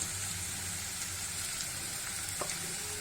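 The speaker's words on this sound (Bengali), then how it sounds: "এবার থেতো করে রাখা কাঁঠাল বিচিটা দিয়ে দিচ্ছি" Crushed jackfruit seeds hit hot oil in a frying pan, giving a steady, even hiss of frying with a faint stir near the end; no talking.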